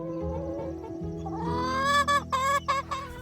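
Hens cluck close by, with one bird rising into a drawn-out, tonal squawk near the end.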